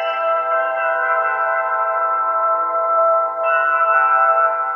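Flat church bells recorded in Russia ring as steady sustained metallic tones, heavily processed with flange and reverb into a dense shimmering drone that shifts pitch slightly partway through, loud and unaccompanied.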